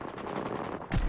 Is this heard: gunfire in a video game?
yes